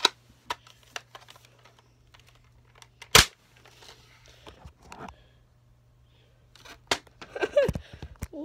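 A toy sniper gun is cocked and loaded, giving a series of faint plastic clicks and rattles, then one sharp loud snap of a shot, with a few more handling clicks after it.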